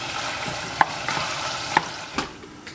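Green pepper fries in a pan while being stirred for a spicy Ghanaian dish, a soft continuous sizzle broken by a few sharp metallic scrapes and knocks of the utensil against the pan.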